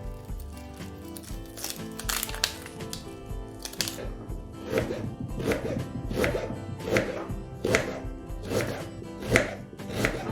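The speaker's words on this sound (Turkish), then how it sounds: "Onlar beklerken biz de soğanlarımızı piyazlık doğrayalım." Steady knife chopping onions thinly on a board, a run of sharp rhythmic taps that grows busier and louder toward the end, with no talking.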